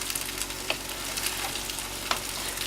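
Fried potatoes reheat in broth in a pan with a constant, fairly quiet sizzle, broken by a few sharp clicks and pops of stirring; nobody speaks.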